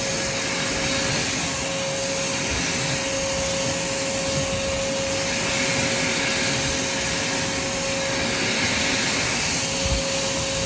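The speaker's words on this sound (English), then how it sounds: "Look how powerful this vacuum is first." Handheld vacuum cleaner working over a thin doormat, a loud continuous motor whine with a steady tonal hum and rushing airflow, running uninterrupted and close up with no talking.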